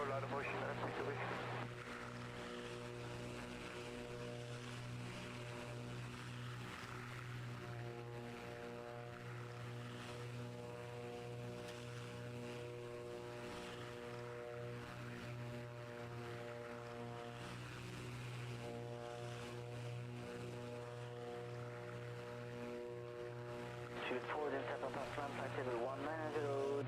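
Twin engines of a Beechcraft Baron BE58 in a flight simulator hum in a steady, sustained drone with layered tonal harmonics, continuous throughout with a brief shift in pitch near the end.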